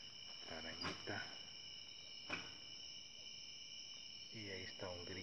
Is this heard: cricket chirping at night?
yes